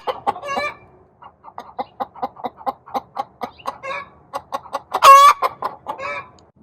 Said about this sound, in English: I'm pretty sure that's Miss Cloud in the coop freaking out.